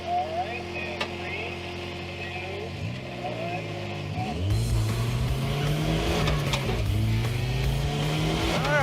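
A muscle car circling a track, its engine first droning at a distance, then roaring up close with gear changes and revving, loud and continuous.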